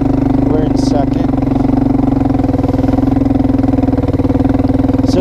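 A Suzuki Quadrunner 250 ATV with an automatic clutch rides in second gear, its engine chugging loud, close and steady as a low, even putter. A voice speaks briefly over the engine.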